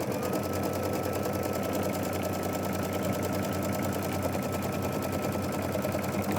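An embroidery machine sews a tack down stitch in a steady, continuous rapid mechanical chatter, close and constant throughout with no pauses or voices.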